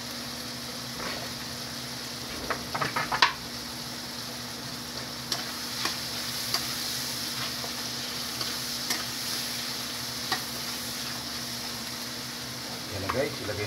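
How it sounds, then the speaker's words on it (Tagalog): Chili tossed into a hot pan and stir-fried sizzles in a steady, close hiss, with a few sharp scrapes and clinks of the spatula against the pan scattered through. "Lagay na pala natin guys yung chili natin"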